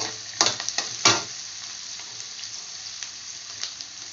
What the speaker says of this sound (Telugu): ఇవి బాగా వేయించుకోవాలి.